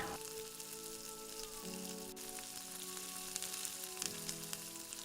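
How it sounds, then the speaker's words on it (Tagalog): Shrimp frying in hot cooking oil, giving a steady, close hiss and crackle that runs unbroken throughout with soft popping spatters, while faint sustained tones sit underneath. "Pag mainit na siya, pwede na nating pituhin ang ating shrimp."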